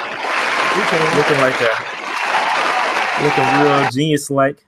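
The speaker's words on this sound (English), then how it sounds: "Can we get a round of applause?" Podcast hosts call for a round of applause, answered by a dense burst of clapping that runs under their speech and stops abruptly near the end.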